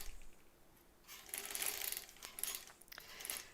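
A sewing machine stitches fabric for a quilt block along a curved quarter-inch seam, running in a quick whirring burst that lasts about two seconds, then in shorter runs.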